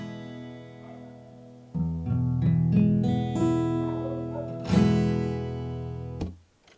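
Acoustic guitar chord strummed a few times, ringing notes and strums building then fading out, close and clear with no talking.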